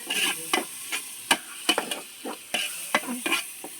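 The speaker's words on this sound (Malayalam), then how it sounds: "എന്നിട്ട് നല്ലപോലെ ഇളക്കുക" Coriander and mint leaves are stirred in a hot pan, with a quick, regular series of scraping spoon strokes over a steady close sizzle.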